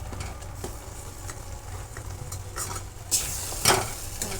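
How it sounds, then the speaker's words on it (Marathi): Besan pithla batter of gram flour cooks in a pan of tempered hot water, a close sizzle with scraping spoon strokes and some soft bubbling, getting louder toward the end. "आता उकळी देखील आता आली आहे."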